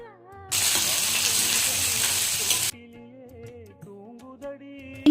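Tempering sizzles loudly in hot oil for kara paniyaram, a steady bright hiss lasting a few seconds before cutting off, then soft kitchen clatter with music-like tones underneath.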